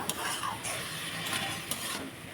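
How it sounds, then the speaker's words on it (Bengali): Banana flower frying with ginger paste in a pan, a steady soft sizzle with occasional scrapes of a spatula stirring against the pan, close and continuous with no talking. "আদা বাটা দিয়ে এই যে আদা বাটাটা একটু আর কি আদার গন্ধটা চলে গেলে তারপর মোচাটা দিয়েছি এই যে মোচাটা একটু কষিয়ে নেবো"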